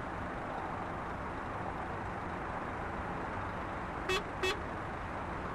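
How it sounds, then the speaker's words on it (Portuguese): Two short, loud blasts of a bus horn in Euro Truck Simulator 2, sounding in quick succession over a steady engine and road rumble. "Essa buzina é top, viu, velho?"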